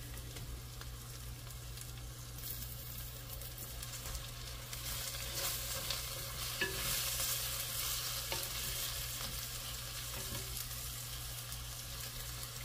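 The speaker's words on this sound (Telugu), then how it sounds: "ఆనియన్స్ మంచిగా ఫ్రై అయ్యింది" Onions sizzling in a pan with mint and coriander for a beetroot biryani, a steady low frying hiss with faint stirring, continuous and fairly quiet, no voices.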